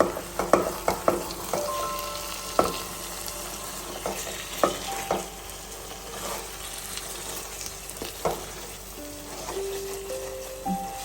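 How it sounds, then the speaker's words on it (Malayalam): Squid frying in a pan while being stirred gently. A soft sizzle runs under irregular scrapes and clinks of the spatula, busier early on and sparser later, close up and without voices. "നമുക്ക് ഇനി പതുക്കെ ഇതൊന്ന് ഇളക്കി കൊടുക്കാവേ"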